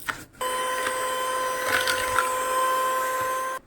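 A handheld electric hand blender beating butter and sugar for brownie batter whirs steadily and close with a constant motor whine, starting after a brief pause and running unbroken with slight shifts in pitch.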